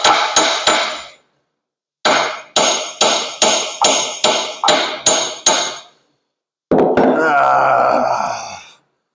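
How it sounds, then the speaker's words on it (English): Sharp metallic hammer strikes tapping a gear into a 1920 Nash engine: three quick blows, a pause, then a steady run of eight evenly spaced hits, followed by a grinding scrape and a strained grunt. "I was just trying to figure out the best way to swing this in here with a hammer"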